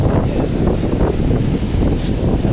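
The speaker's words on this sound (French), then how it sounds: "Oh, la mer est bien agitée." Strong wind roars into the microphone beside a rough sea on the Cameroon coast at a hotel, a loud, constant rumbling wash with gusty buffeting and surf blended in, and no talking.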